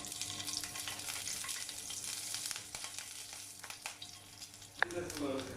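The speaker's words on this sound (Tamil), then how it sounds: "இப்போ 2 பச்சை மிளகாவை இந்த மாதிரி கட் பண்ணி வச்சுருக்கேன். இதையுமே எண்ணெயில் போட்டு ஃப்ரை பண்ணிக்கலாம்." Cut green chillies frying in oil make a soft, steady sizzle with light spattering crackles, fairly quiet and close, with one brief sharper clink near the end.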